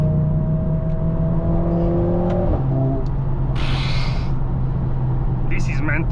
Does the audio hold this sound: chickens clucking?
no